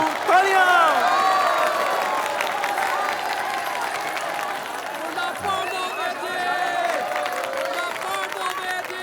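Wedding crowd clapping and cheering as a dance item begins, steady dense applause with scattered shouts and whistles, moderately loud and continuous throughout.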